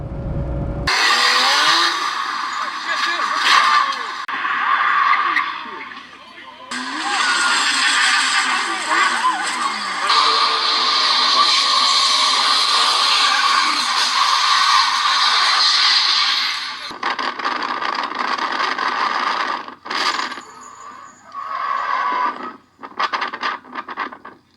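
A 1982 Porsche 911SC with nearly 400,000 miles on the road, its engine and road noise droning in long steady stretches that swell and drop as it drives, with scraping, rattling cabin sounds near the end.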